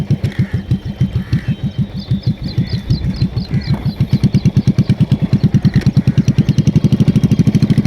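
A motorcycle engine thumps at a learner riding school, its loud close pulses quickening as the throttle is gently raised and then settling into a fast, even beat.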